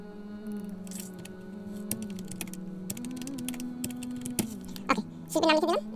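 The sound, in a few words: typing artist's name on a computer keyboard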